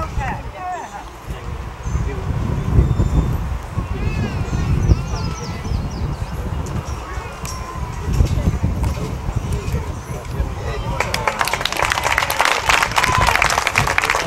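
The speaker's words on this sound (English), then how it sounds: "All these individuals, let's give them a round of applause" An audience at a cattle show claps steadily for about fourteen seconds, the applause swelling toward the end, with voices talking over it throughout.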